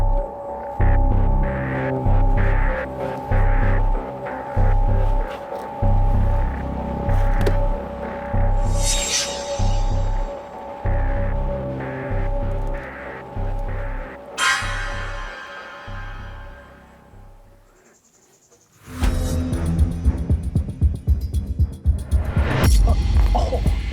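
A bus air conditioner that appears broken drones with a steady, throbbing mechanical hum, rising and falling over the cabin's background noise. It fades almost out briefly before returning loud and harsh.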